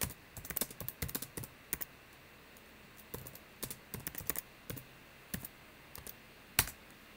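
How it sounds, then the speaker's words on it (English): Someone types a message on a computer keyboard: quiet, close clusters of quick key clicks in short bursts separated by pauses, with no voices. "You can simply type it as well."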